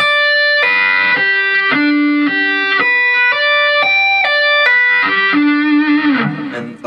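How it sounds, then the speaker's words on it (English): Slow three-string sweep-picked arpeggios on electric guitar with tapped high notes, played through effects with light distortion; evenly spaced ringing note groups, close and alone. "And that's a true 3-string sweep."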